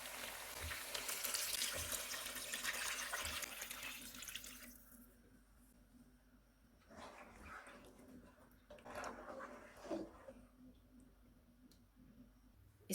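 Water pours steadily into a cooking pot of chicken pulao for several seconds, then stops, followed by a few soft clinks and splashes in a quiet room.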